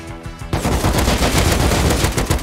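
Loud, fast machine-gun fire during a firefight in Rust, starting abruptly after a brief pause and hammering on continuously to the end.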